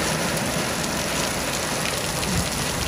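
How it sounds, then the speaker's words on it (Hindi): Heavy rain pours down in Mumbai near a hotel, a dense, steady, loud hiss of drops on surfaces with no talk. "तेज बारिश हो रही"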